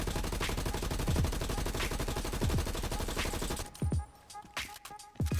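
XM4 rifle fire in the Warzone video game comes as a dense, continuous burst of rapid automatic shots, followed by a few separate, punchier single shots near the end.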